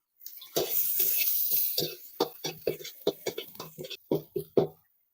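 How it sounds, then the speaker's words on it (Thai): Pounded dried chili and small Chinese garlic are stir-fried in hot oil in a wok for a Thai stir-fried wide noodle dish with basil and minced pork, giving a sustained sizzle followed by a rapid series of sharp scraping stir strokes. "เราจะเอา พริกแห้งกับกระเทียมจีบเล็กที่เราโขลกไว้ลงไปเลยครับ ลงไปคั่วให้หอมเลยนะครับ"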